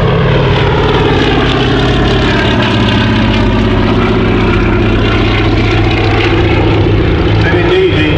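A Fairey Swordfish biplane engine drones loud and steady at an air show, a constant close propeller roar that fills the whole stretch.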